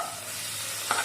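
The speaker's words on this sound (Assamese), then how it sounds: "এতিয়া অকণমান ভাজি লওঁ" A paste of onion and green chili frying in oil in a wok gives a steady, close sizzle throughout, with a brief stirring scrape near the end and no voices.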